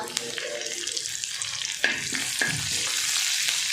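Garlic and curry leaves sizzling as they fry in a pan for a rustic Marathi vegetable dish, giving a continuous loud crackle with a few sharp scrapes of the spoon stirring.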